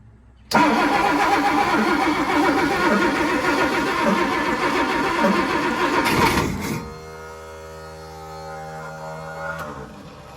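A starter motor on a 1967 Chris Craft Roamer yacht with twin Ford 427 engines cranks loudly and steadily for several seconds, then cuts out, leaving a lower idle-like hum with a faint click near the end.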